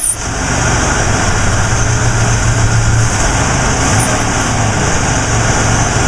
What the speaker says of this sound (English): I'm going to fire up the motor so you can hear how wonderful it runs.